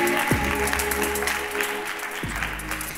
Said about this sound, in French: Merci d'applaudir Dany Dan.